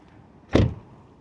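A Hyundai Ioniq Hybrid car door shuts with a single solid, close thud that stands alone against a quiet background and fades quickly.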